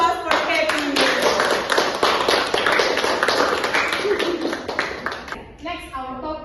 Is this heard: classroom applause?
yes